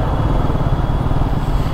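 A Suzuki Raider 150 Fi motorcycle engine runs with a steady, loud, low rumble that stays even and continuous, with no voices over it.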